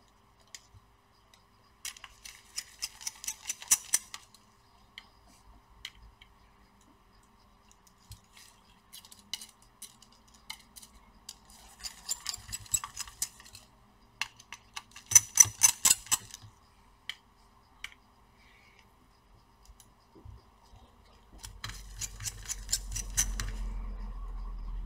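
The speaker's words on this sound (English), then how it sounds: "We're gonna put the screws back" Screws are driven back into a Radeon RX 6600 Pulse graphics card in short bursts of rapid, faint clicking and ratcheting, with quiet pauses between the bursts.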